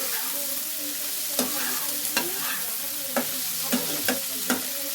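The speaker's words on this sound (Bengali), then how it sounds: "সবজিটার সাথে আদাটা ভালো করে নাড়াচাড়া করে নিচ্ছি, সবের সঙ্গে মিশিয়ে নিচ্ছি।" Vegetables with ginger sizzle in oil in a frying pan, a constant close hiss broken by regular sharp scrapes of the spatula, about one per second.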